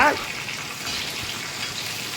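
Flattened rice (aval) roasting in a pan on full flame while being stirred for aval payasam, a close, loud dry hiss and sizzle that runs on unbroken.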